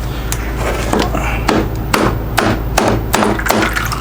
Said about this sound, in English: We need to tap this casing again.